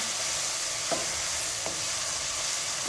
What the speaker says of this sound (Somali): weli way noo shiilmaysaa